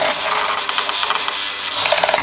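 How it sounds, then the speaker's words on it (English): A sewing machine's small electric motor runs while being held back by hand to test its torque, giving a steady, close, bright whirring drone with slight wavering throughout and no speech. "If I hold this and see how much torque the motor's got."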